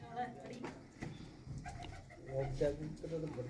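Soft pigeon coos rise and fall under steady nearby talking, with several low, rounded calls overlapping the voices.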